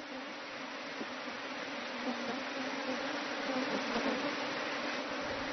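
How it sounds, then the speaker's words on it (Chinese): Honeybees swarm from the hive onto a beekeeper's body, drawn by the queen bee, making a steady, dense buzzing hum that fills the whole stretch and swells slightly toward the end, with no voices. "蜜蜂开始陆续从蜂箱转移到了周社长的身上"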